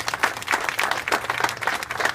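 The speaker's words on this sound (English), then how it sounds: "So I think we ought to give him a round of applause." A crowd gathered outdoors for the grand opening of a downtown plaza breaks into applause, a steady, lively patter of many hands clapping close and fairly loud without talk.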